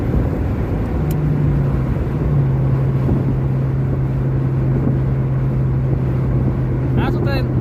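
Steady engine drone and road rumble from inside a Ford Mustang with an automatic gearbox, cruising with a club of six Mustangs toward Cochrane, with a low constant hum throughout and brief wind buffeting near the end.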